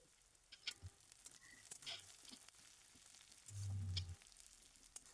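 Green chillies fry and get stirred in hot oil in a home kitchen pan. The sizzle is soft and steady, broken by scattered spoon scrapes and clicks, with a brief low rumble near the end.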